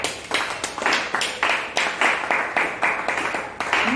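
A church congregation claps in rhythmic unison, about nine evenly spaced bursts of crisp claps from many hands, close and steady, with a faint voice near the end.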